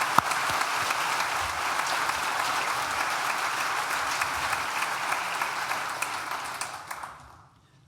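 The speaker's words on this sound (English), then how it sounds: "So please, give yourselves a round of applause." Graduating students at an NTU graduation ceremony applaud in a long, dense burst of clapping that holds steady, then fades away in the last second.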